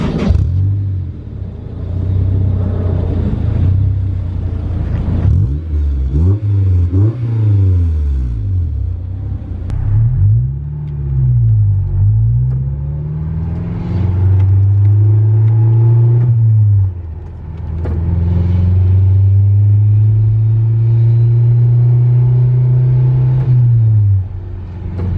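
Honda S2000 fitted with an HKS single exit exhaust revving hard, with several rising and falling throttle blips followed by sustained high revs. The engine is loud, close and heard alone.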